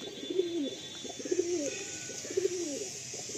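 Madrasi pigeons coo in three evenly spaced, rolling phrases about a second apart. The birds are close and clear, with no talking over them.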